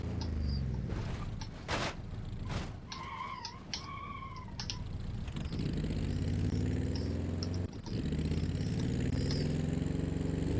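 Turbocharged 1,500cc nitrous-equipped buggy engine in BeamNG.drive, revving and idling with short bursts and blips early, then settling into a steady, droning run at moderate loudness.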